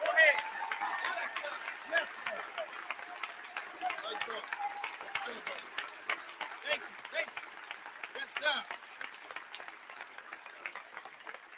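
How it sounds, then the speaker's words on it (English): A congregation claps hands in praise, a dense crowd of applause running steadily throughout at moderate level, with talk mixed into the sound. "You should give God a hand clap of praise"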